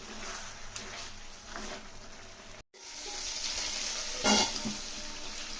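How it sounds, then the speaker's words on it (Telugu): Mango chicken frying in a pan while being stirred until the liquid cooks off and oil separates, a continuous sizzle with scraping spoon strokes and a brief break, loudest toward the end. "ఇవన్నీ ఇంకిపోయిన దాకా ఇట్లా కదిలించుకుంటా ఏ వీటిని ఆయిల్ పైకి వెళ్ళిన దాకా వేయించాలి"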